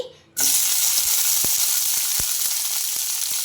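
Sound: green chillies, tomato and lentils frying in a pan for chutney

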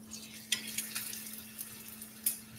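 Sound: tortilla warming and sizzling in a pan

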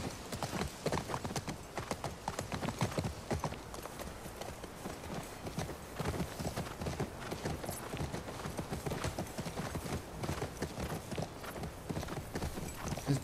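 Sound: horse hooves in video game

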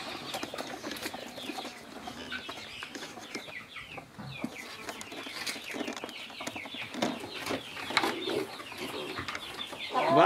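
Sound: chickens clucking on a farm

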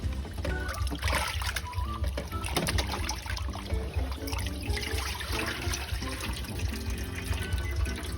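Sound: washing sausage under running tap water

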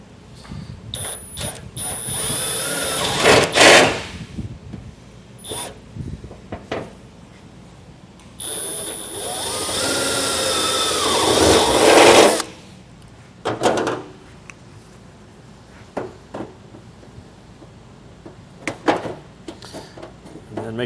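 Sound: drill drilling sheet metal heat shield

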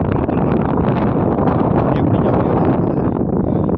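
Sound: strong wind blowing on rocky mountain

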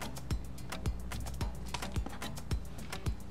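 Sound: cutting out quilt batting

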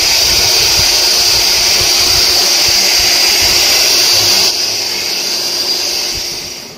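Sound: hair dryer during hair rebounding

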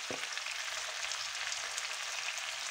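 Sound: garlic and parsley paste added to simmering rabbit stew

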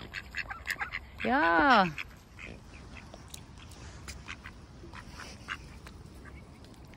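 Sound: ducks quacking while being hand-fed

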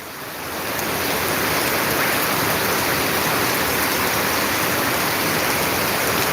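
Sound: rain

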